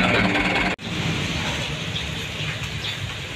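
Light drizzle during a car trip on a slick road, heard as a soft steady hiss of rain and road noise with a brief dropout near the start.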